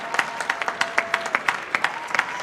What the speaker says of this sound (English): Big round of applause for the Barista Champion of the United States, Andrea Allen.